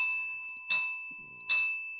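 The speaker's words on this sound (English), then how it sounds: "Ring the bell." A bicycle bell rings twice, two bright metallic trills about a second apart, against a quiet background with a faint steady tone.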